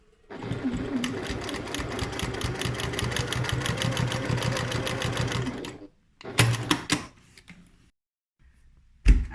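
A sewing machine stitches tote bag handles in a steady rapid whir for several seconds, stops, then runs in a shorter burst and a brief final stitch, loud and close.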